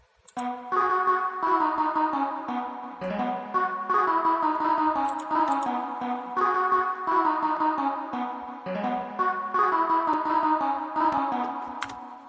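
A breathy synthesized voice flute tone from the Nexus plugin plays a slow melodic phrase, sustained notes gliding in sequence, clear and steady with no talking.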